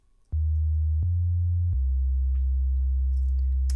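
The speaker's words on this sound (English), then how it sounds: "I have this bass line that sounds like this." A deep, nearly pure synth bass line from a house track, three long sustained low notes that shift in pitch, smooth and loud and alone, with faint clicks at each note change and no talk.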